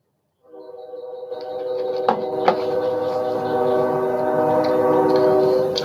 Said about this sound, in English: there's the train whistle